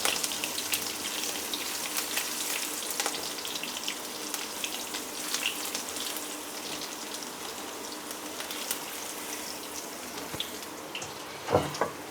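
Coarsely chopped garlic fries in a hot pan, a steady close sizzle and crackle with bursts of spattering that continues for twelve seconds without talk.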